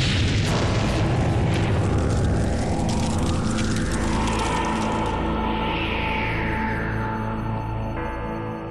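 A deep, rumbling boom with a long sustained roar and sweeping tones, as in a dramatized explosion of reactor unit 4 at the Chernobyl nuclear power plant, loud and heavy, with no talk.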